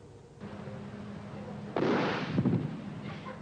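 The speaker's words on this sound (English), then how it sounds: "Fire District 10 used the help of a licensed fireworks expert to show us why some types of fireworks are banned." Banned, illegal fireworks set off by a licensed fireworks expert in a fire district demonstration, heard as a loud sharp burst followed by a second crackling pop over steady background rumble.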